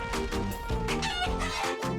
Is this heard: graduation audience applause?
no